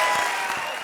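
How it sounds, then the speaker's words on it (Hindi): Loud audience applause on a Hindi television comedy show, a brief dense burst of many hands clapping that fades slightly toward the end. "जोरदार तालियां।"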